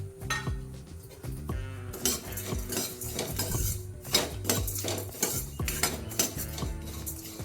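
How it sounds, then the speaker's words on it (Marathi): Vermicelli with cashew and almond pieces being roasted and stirred in a pan for kheer, with steady metallic clinks and scrapes of a spoon against the pan continuing throughout, fairly close and without any talk. "आपण या शेवया भाजत असतानाच आपल्याला त्यामध्ये काजू आणि बदामचे तुकडे टाकायचे आहेत म्हणजे ते पण चांगले भाजून होतील"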